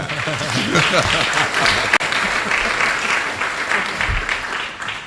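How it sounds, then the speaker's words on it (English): An audience at a live evening event bursts into loud, dense applause mixed with cheering voices, continuing strongly throughout with a brief sharp click midway. "You can clap for that."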